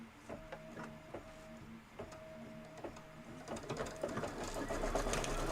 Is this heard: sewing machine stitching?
yes